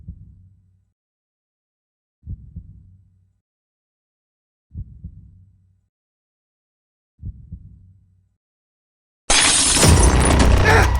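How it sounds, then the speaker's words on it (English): Kitchen window glass shattering in one sudden, loud, bright crash after four slow, evenly spaced low thumps like heartbeats, with the breaking noise continuing to the end. "The crash came from the kitchen window behind me, a symphony of glass-shard cymbals, trumpeting thuds, shattering violins"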